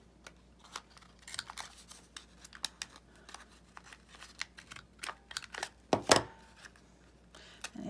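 Corner rounder punching the edges of a calendar page card, a series of sharp, close clicks and snips with paper rustling between them, one louder crunchy cut near the end.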